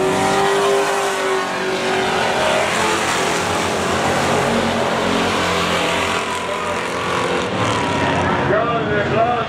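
Thunder cars race in a feature at Capital City Speedway in Ottawa, their engines roaring steadily in a loud continuous blend of revving and passing cars.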